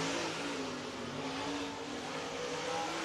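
A race car at Lake Cumberland Speedway accelerates onto the track for a qualifying lap, its engine a steady, fairly distant drone that holds for a few seconds.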